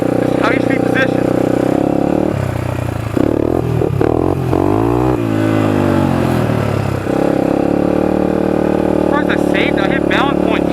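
Motorcycle engine revving up and down through an intermediate wheelie, loud and close, pitch sweeping as the throttle rises and falls mid-clip, with a person talking over parts of it.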